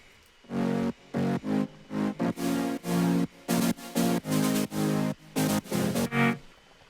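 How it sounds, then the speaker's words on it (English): Bright, wide super-saw synth chords pulse in a steady rhythmic pattern, loud and sustained in short bursts with brief gaps, no talking. "they're a bit brighter, kind of these big super saws"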